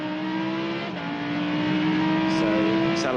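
A Lamborghini Super Trofeo race car accelerates hard at Portimao, its engine a loud, steady, rising drone that fills the whole stretch, with a commentator talking over it.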